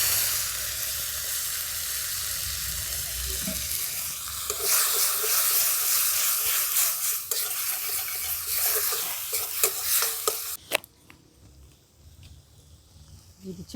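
Ground tomato and dried chili paste hits hot oil in a pan and sizzles loudly and steadily, a dense frying hiss that continues before cutting off to quieter clatter near the end.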